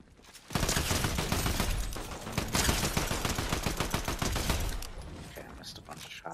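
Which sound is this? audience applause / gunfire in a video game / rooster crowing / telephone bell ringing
gunfire in a video game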